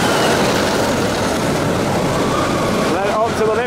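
Intamin roller coaster train on the Supersonic Odyssey ride at an indoor Berjaya Times Square theme park, rolling along a pre-lift section with a loud, steady rumble and rattle of wheels on track; a voice breaks in near the end.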